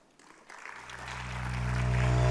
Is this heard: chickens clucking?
no